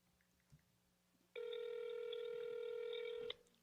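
A phone on speakerphone gives off one steady electronic tone lasting about two seconds, held up to a microphone in a quiet room.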